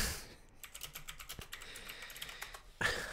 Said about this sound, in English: I'm typing in women of the Ukraine into Google